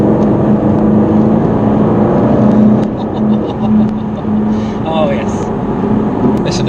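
Jaguar XKR engine heard from on board while driving, a steady loud drone with a low hum throughout and slight rises in pitch, carrying on under people talking.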